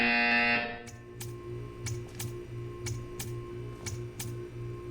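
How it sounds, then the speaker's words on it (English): A repeated buzzer-like tone sounds in a Portal 2 test chamber, a long loud burst opening the clip, then a series of short evenly spaced pulses over a steady low hum, with no speech. "You will hear a buzzer"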